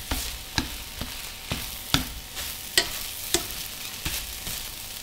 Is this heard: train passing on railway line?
no